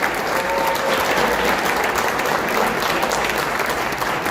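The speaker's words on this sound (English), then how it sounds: "Let's give a round of applause to our wife." Steady, dense applause from an audience at a Kosovo Independence Day celebration in New York City, sustained and even throughout with no pauses.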